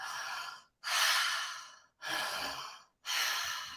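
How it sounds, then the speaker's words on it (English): Circular connected breathwork: deep, audible breaths in and out follow one another in a steady, continuous cycle, close and clear with only brief pauses between them. "With the circular connected breath, it's breathing in and out."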